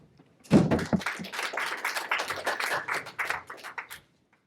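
An audience at a venture capital panel breaks into applause, a burst of close, crisp clapping from a modest crowd that starts abruptly, carries on for about three and a half seconds and then stops.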